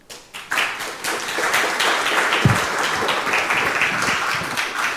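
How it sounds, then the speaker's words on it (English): Applause from a conference audience after lightning talks swells quickly and holds steady, a dense wash of clapping that carries on to the end. "please join me in giving one more round of applause to all of our wonderful speakers."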